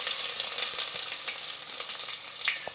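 Chopped onion sizzling in hot oil with curry leaves, a steady, loud, close crackle with small pops and the occasional stir.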